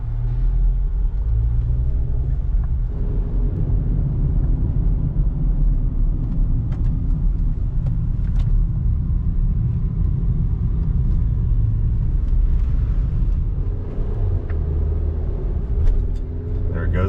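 A car on a diagnostic test drive with a recurring fault under about half throttle, heard from inside as a steady low rumbling engine and road noise throughout, with occasional faint clicks.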